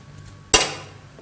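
A single sharp clank of a utensil against a cooking pot while diced carrots and sliced onions are mixed in, ringing briefly and fading, close and fairly loud.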